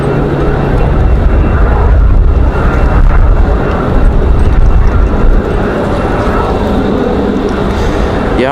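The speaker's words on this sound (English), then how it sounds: "That E175 going to fight the wind." An Embraer E175 airliner flying in strong, gusty wind at Raleigh-Durham airport, a loud, close, rumbling engine roar mixed with buffeting wind noise, swelling in the first half and then easing slightly.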